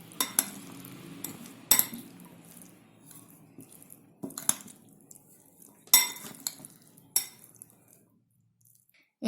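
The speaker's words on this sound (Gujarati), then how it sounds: "હવે આને બરાબર મિક્સ કરી નાખશું." A spoon stirs corn and peas bhel chaat with coriander, grapes and pomegranate in a bowl, giving sharp clinks against the bowl at irregular moments over soft rustling, then it goes quiet near the end.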